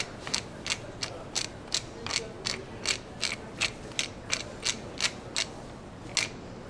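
A pepper mill grinds pepper into a chicken cacciatore, producing a close, regular run of about fifteen crisp ratcheting clicks at an even pace, with no talking.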